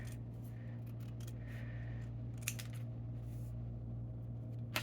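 Scissors snip through paper in a mixed-media craft session, a series of short, crisp cuts at uneven intervals, faint over a steady low hum.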